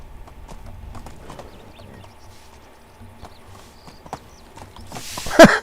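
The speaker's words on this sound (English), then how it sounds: "I totally just rode a donkey into their house." A donkey's hooves clip-clop in a light rhythmic patter while it is ridden into a house in the game Medieval Dynasty, soft and close, ending with a brief louder burst of noise.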